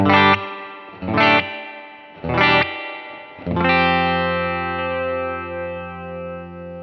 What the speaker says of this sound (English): Here is your spring reverb.